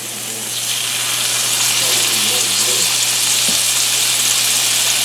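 Deer tenderloin medallions fry in butter and minced garlic in a small cast iron skillet, a steady loud sizzle that swells slightly after they go in and holds evenly throughout, with no talking over it.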